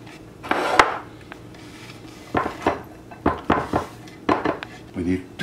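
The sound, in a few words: chopped vegetables moved into a bowl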